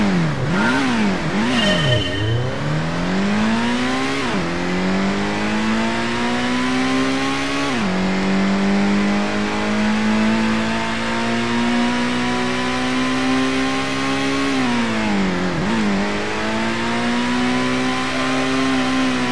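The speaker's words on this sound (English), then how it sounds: "We're driving a Mitsubishi GTO and we have 25 seconds." A Mitsubishi GTO racing in Gran Turismo, its engine droning loud and steady and climbing through the revs, with sharp dips at each gear change before pulling up again.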